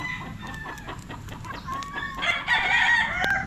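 A claret gamefowl broodcock clucks in short bursts nearby, then breaks into a loud crow near the end.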